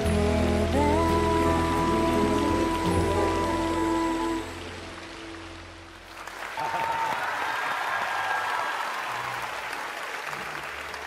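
Rain effect pours over a stage during a contemporary dance performance on a televised dance competition: music with applause gives way to a steady, loud, broadband rain hiss.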